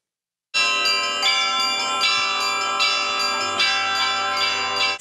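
Church bells ring continuously at a Moscow Easter festival, with rich, overlapping tones, struck repeatedly in a steady rhythm, loud and close with no voices.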